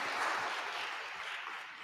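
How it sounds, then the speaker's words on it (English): Applause at a community engagement forum as a table speaker finishes, a short burst of steady clapping from a modest crowd, fading gradually. "Applause for Jonathan, Table 5."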